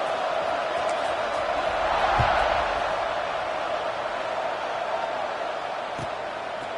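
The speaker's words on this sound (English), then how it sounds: "this crowd is buzzing after that last score" A football stadium crowd buzzes after a score, a broad steady roar of many voices at a distance, swelling slightly midway with a faint thump.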